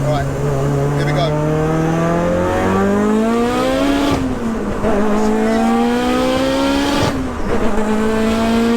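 A 900 bhp 2.0-litre Mitsubishi Evo 8 on race fuel pulls hard on boost through the gears, its engine note climbing steadily in pitch and dropping briefly at each shift, loud and close from inside the car.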